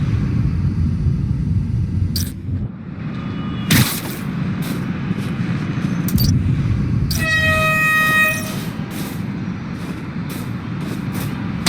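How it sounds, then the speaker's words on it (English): A subway train in the video game Spider-Man: Miles Morales rumbles past with a steady low roar, sharp metallic clanks and a short horn toot partway through, fairly close and loud, with no talking. "There's a subway line near here."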